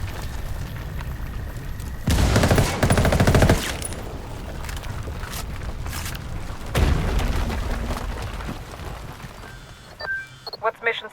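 Close, loud gunfire in the tactical shooter Ghost Recon Wildlands, with sustained automatic bursts and a heavy boom from a frag grenade, continuous combat noise throughout with voices mixed in, and a few sharp isolated shots trailing off at the end.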